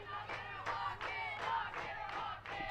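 Crowd chatter and cheering from a good-sized student crowd along the berm at a college softball game, Southern Arkansas vs. East Central, a steady murmur of many voices with recurring swells and no clear single speaker.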